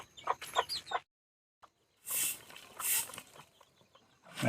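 Chickens cluck and squawk in short bursts at close range on a farm, with a louder rooster call twice in the middle and a pause between.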